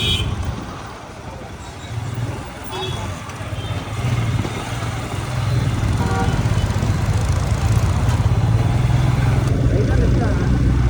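A Royal Enfield motorcycle engine runs with a steady low rumble that grows louder and fuller partway through, while voices talk over it.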